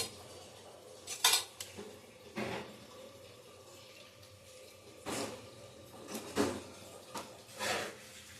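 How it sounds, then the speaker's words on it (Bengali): Boiled pointed gourd (potol) being mashed in a dish, heard as a few scattered clinks and scrapes of utensils against the plate with quiet gaps between, close but soft. "পটলটা মাখবো।"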